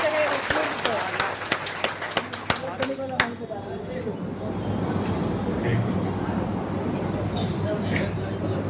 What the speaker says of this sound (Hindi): इन सब के लिए एक बार जोरदार ताली बजा दीजिए।